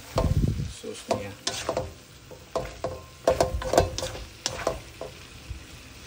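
A vegetable dish with sauce is stirred and mixed in a pan, giving close scraping, shuffling strokes in an irregular rhythm over a soft sizzle.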